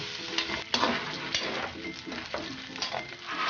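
Food browns in hot oil in a pan for pansit bato mami, a steady close sizzle broken by repeated stirring scrapes and light clinks of a utensil.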